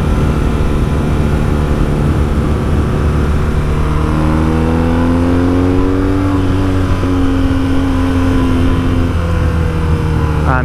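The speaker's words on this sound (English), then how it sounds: "So there's some fruity noises coming out of that Jag. He's opened up his second exhaust and that is golden." Jaguar F-Type revving hard with its second exhaust valve open, a loud, close, fruity engine note climbing and holding in pitch before easing off, with no talking.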